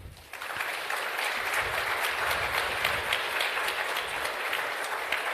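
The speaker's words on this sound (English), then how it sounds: "a round of applause for our panelists" An audience at an anniversary lecture applauding panelists, a dense, steady burst of clapping that rises quickly and holds evenly throughout.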